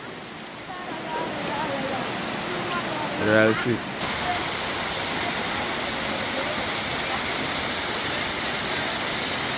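Waterfall at the Turure Water Steps roaring with a steady, loud broadband rush throughout, with a brief spoken voice partway through.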